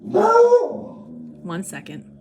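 A pug, beagle and lab mix dog lets out a loud bark followed by a couple of shorter yips indoors, with a person talking over the end.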